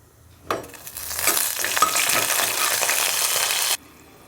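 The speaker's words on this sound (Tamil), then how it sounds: "நல்லா வதக்கி விட்டுக்கலாம்" Spices sautéed in a hot pan for a cauliflower and green pea vegetable kurma sizzle and crackle loudly and steadily for about three seconds while being stirred, then cut off abruptly.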